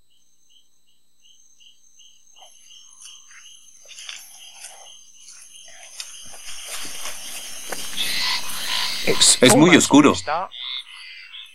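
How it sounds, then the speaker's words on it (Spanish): Frogs call at night in Brazil, a thin chorus of repeated chirps and croaks that swells toward the end, where someone speaks loudly over it. "Parece que vamos a ser atacados por ranas salvajes"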